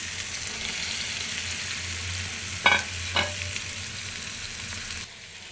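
Fish roe frying in a pan, a steady close sizzle with a couple of sharp stirring scrapes near the middle, then the sound drops away at the end.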